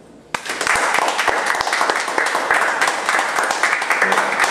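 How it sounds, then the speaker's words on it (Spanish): A university seminar audience bursts into sudden, loud applause that starts sharply and holds steady as a dense wash of clapping, with a few sharper individual claps standing out. "solamente me toca pedirle a ustedes mismos un fuerte aplauso"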